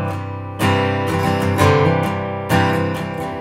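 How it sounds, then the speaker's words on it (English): Acoustic guitar strumming triplet patterns with a hammer-on on the one count, crisp repeated strums sounding close and clear, alone without talk. "we're gonna add a hammer-on on the one count for the next bar"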